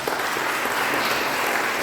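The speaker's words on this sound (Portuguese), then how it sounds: "Vamos recebê-lo com uma salva de palmas para Jesus" Steady, full applause from a church audience welcoming the speaker at a lecture on combating violence against children. The clapping is dense and continuous throughout, with no talk over it.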